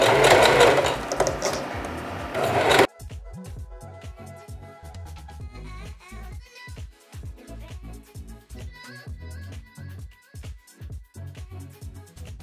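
A sewing machine stitches wig tracks for a 2x6 closure wig. A loud burst comes first, then bursts of rapid mechanical stitching start and stop repeatedly at close range with no talking.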